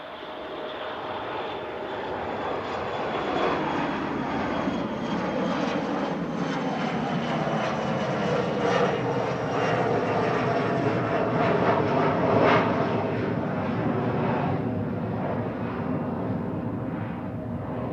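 A Loganair Embraer ERJ145 regional jet departs Manchester Airport, its engine roar building over the first few seconds, then holding loud with a sweeping whine before slowly easing as it moves off.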